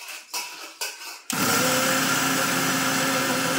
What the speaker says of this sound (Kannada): ಈಗ ನೋಡ್ರಿ, ನಾನು ಮಿಕ್ಸಿಗೆ ಹಾಕ್ಲತ್ತೀನಿ ರೀ.